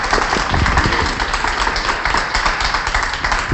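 An audience at a book presentation for an illustrator applauds continuously, a dense even wash of many hands clapping from start to finish with no talk.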